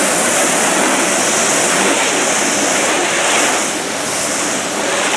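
Steady broadband water spray hissing onto a car hood, loud and continuous throughout, with no talk.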